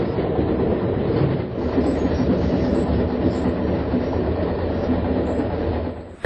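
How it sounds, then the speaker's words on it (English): A Union Pacific unit oil train passes along the coast early in the morning, a loud, continuous rumble and roar of railcars with rhythmic wheel clatter and faint squeals, steady throughout with no voices. "the Union Pacific Unit oil train is traveling north to one post"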